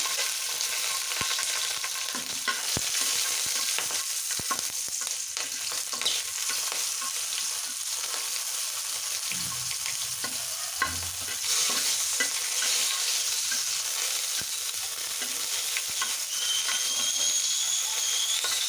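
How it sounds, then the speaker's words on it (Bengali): Five green chillies fry lightly in hot oil, a steady close sizzle and hiss with occasional spoon scrapes and clicks against the pan, running continuously without talk. "এখানে দিয়ে নিচ্ছি 5টি কাঁচা লঙ্কা। একটু হালকা করে ভেজে নেব।"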